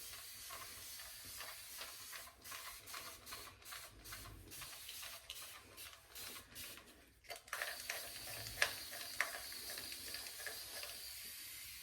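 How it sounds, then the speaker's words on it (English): Rose water sprayed from a spray bottle onto curly hair: quiet, soft hissing spritzes in short repeated bursts, with a couple of slightly stronger pumps near the end, and no voices. "Spray it down with my rose water."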